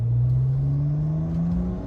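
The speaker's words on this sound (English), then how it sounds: "So with the cowl filters, you hear a lot more engine noise, a lot more intake noise." A car engine fitted with cowl air filters gives a rising intake drone as it revs, a steady close whirring rumble climbing in pitch over about two seconds.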